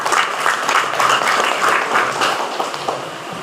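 An audience at a university new-student orientation event claps steadily throughout, a loud, dense wash of applause greeting a guest speaker taking the stage.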